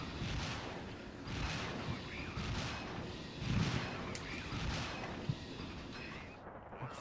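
Zeus missiles launching from a vertical launch system aboard a 1980s warship in the naval combat game Sea Power: a continuous roaring rumble with repeated booming surges, one heavier thump midway and a sharp crack near the end.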